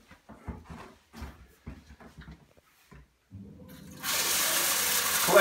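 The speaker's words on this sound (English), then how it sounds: "So the first thing we need to do is to collect our water sample, and I'll be sampling from our shower today." Water from a home shower runs into a measuring container, a steady rushing spray starting after a few seconds of faint handling clatter and continuing loudly to the end.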